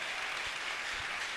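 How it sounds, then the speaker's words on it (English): A church congregation claps hands together, producing a continuous, fairly soft wash of applause across the short moment. "Clap your hands."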